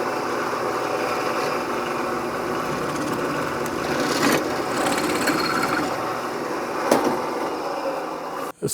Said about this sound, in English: the drill bit will self-center itself